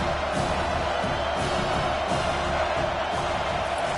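A home crowd roars at an Arkansas vs. Alabama football game, a dense, continuous wash of cheering and noise that holds steady throughout without any clear breaks.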